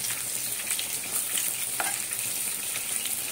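Okra pakoras stuffed with sattu fry in oil over a low flame with a steady, close crackling sizzle and occasional pops, continuous and even, with no talking.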